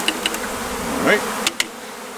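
Honey bees buzz close by in a steady, wavering drone, with a few sharp clicks and taps of equipment over the hum.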